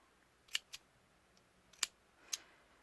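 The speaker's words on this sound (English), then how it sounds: "I just trim off the excess" Scissors trimming excess vape wick cotton on a Geekvape Gbox build, four or five sharp, quick snips close by in a quiet room, with no talk.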